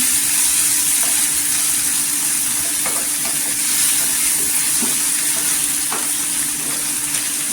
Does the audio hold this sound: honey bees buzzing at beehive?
no